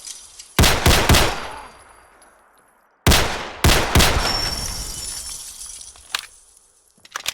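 A modded gun fires in Fallout 4: two loud close bursts of three or four sharp shots each, with bright ringing tails and reverb fading between them, then a few quieter pops near the end.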